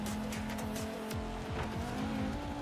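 Volvo car tearing off-road in Forza Horizon 3, engine droning steadily throughout with repeated tire squeals and skids sliding across loose ground, loud and close.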